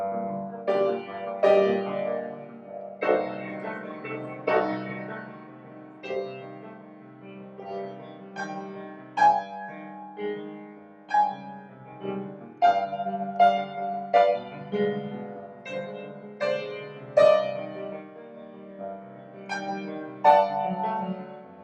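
Solo piano plays a slow, lyrical single-line oboe melody with sustained notes and gentle pauses, moderately soft and unaccompanied.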